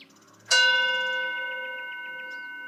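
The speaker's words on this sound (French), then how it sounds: "Donc voilà, le son du gong," A gong is struck once in an indoor wellbeing setting, giving a sharp loud attack followed by a long, steady shimmering ring of sustained tones that fades only slowly.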